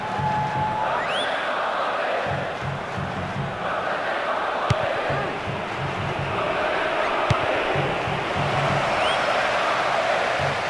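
Stadium crowd in the PES 2023 video game, a sustained roar of applause and cheering that swells and holds at a steady level throughout.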